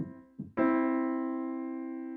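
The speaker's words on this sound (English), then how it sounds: "a pure major third" A couple of brief keyboard notes, then a major third interval struck cleanly and left ringing, slowly fading with a smooth, steady sustain.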